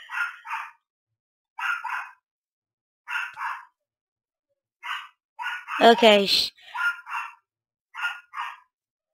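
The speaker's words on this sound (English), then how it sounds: "if you can hear my dog. She's barking like a boss." A dog barks in one loud, sharp burst partway through, cutting in between the short phrases of someone talking over a Minecraft survival games session.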